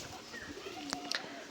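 Pigeons in a racing pigeon loft coo softly over a brief stretch, with light chirps and a voice faintly in the background.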